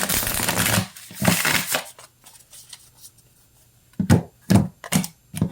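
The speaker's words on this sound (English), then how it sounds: "One more shuffle." Tarot cards being shuffled by hand, a run of crisp riffling bursts near the start, then quiet, followed by several sharp separate taps or snaps of the deck toward the end.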